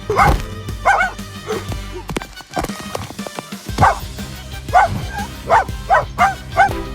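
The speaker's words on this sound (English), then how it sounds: "But when Pip barked, the lion stepped back" A small dog barks repeatedly in sharp, high yaps, with short pauses between bursts, fairly close and clear.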